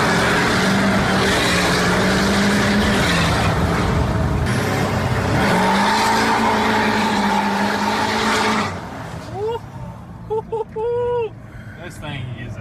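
The engine of a rebuilt, previously wrecked 2023 Corvette C8 roars loudly as the car accelerates hard, with a rising and falling drone heard from inside the car. Near the end it gives way to quieter sounds while people talk.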